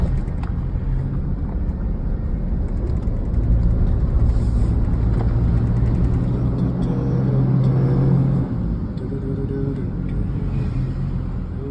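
A 2005 Chevrolet Colorado engine idles steadily after a timing chain replacement, a continuous low rumble with a slight swell midway, heard outdoors with some wind noise and no talk.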